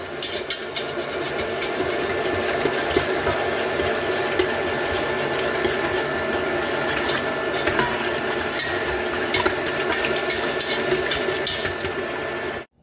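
Steady scraping and swishing of a utensil stirring gelatin into stock in a pot while making chicken salami, continuous and close throughout with no talk.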